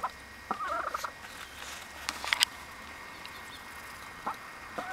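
A pet duck eating bugs among strawberry plants gives several short raspy quacks and chattering calls at irregular intervals, fairly close, over a quiet outdoor background.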